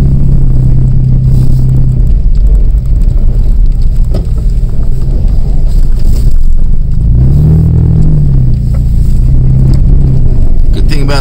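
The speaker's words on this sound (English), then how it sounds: "we're just going to go ahead and plow this snow here for you" A Jeep fitted with a Boss HTX V plow works through snow, its engine rumbling steadily and loud throughout, with a rising rev near the end as the plow pushes.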